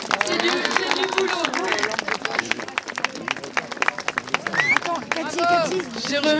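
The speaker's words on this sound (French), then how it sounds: "Et on peut les applaudir bien fort parce que c'est du boulot." An audience at a festival event applauds the committee volunteers, with irregular hand clapping and crowd murmur mixed with voices, fairly close and lively.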